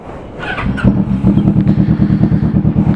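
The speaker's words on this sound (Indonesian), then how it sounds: "Kita panasin dulu motornya." A 2016 Kawasaki Vulcan S 649 cc twin fitted with a Two Brothers full-system exhaust warms up. A starter whirs, then the engine catches and settles into a loud, steady, throbbing idle heard up close.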